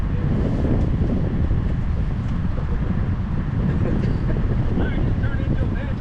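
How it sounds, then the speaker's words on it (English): Wind buffets a microphone beside a railroad track outdoors, a constant loud low roar and rumble that stays steady for the whole stretch without easing. "it's a little windy."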